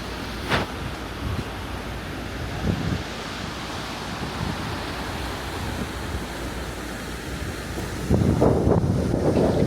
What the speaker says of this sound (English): It's too windy and too cold.